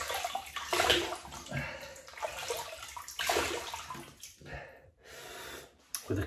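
Water running and splashing as a face is wetted before a shave with a double-edge razor, a steady close wash with brief pauses and drips, no talk.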